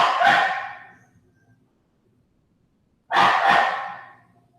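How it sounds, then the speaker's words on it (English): A dog named Major gives two loud, drawn-out barks or howls, close by, separated by a couple of seconds of silence. "when Major barks, shit goes up"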